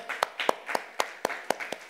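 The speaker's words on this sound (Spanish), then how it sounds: "Un aplauso una vez más." A church congregation clapping in a steady, even rhythm, about four sharp claps per second, close and moderately loud with no talk over it.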